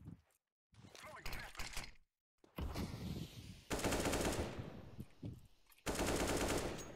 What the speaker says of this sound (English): Why are you shooting your own teammate?